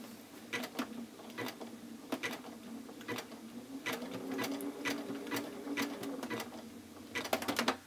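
Sewing machine sews a very small, narrow zigzag stitch while appliqueing a Dresden Plate quilt block, giving steady quiet mechanical running broken by repeated sharp ticking clicks and a quick flurry near the end.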